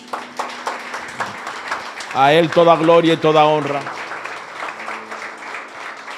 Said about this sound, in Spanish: Dele un aplauso a Jesucristo